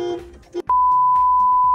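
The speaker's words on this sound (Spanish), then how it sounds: "Sonó la alarma del carro." A car alarm sounds a single loud, sustained electronic tone that starts abruptly and holds steady, preceded briefly by a voice talking.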